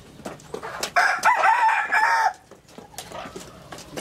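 A rooster crows once, loud and close, a long drawn-out call standing alone against quiet background with faint clucking of hens around it.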